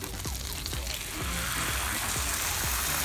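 Steady sizzling of a tortilla frying in a hot pan for enchiladas, a dense crackle that swells slightly louder partway through, with a few soft clicks scattered over it.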